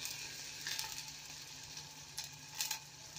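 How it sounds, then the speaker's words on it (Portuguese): Tomato sauce simmers with sausage in a pan, giving a faint, steady sizzle and light bubbling crackle with a couple of brief louder spits, close but quiet. "eu vou colocar aí o molho de tomate para ir fervendo aqui junto"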